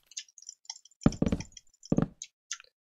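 Block placing in Minecraft Sky Wars on the Hypixel server, heard as a scatter of soft, close knocks and plops in quick irregular succession, with two louder thuddier hits standing out among lighter ticks, no talking.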